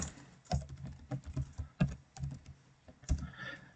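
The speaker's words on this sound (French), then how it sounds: "Donc je tape tutu.txt" Keystrokes on a computer keyboard while file names are entered in a file-management tutorial, a quick irregular run of close, crisp taps with a few sharper key hits, no voices.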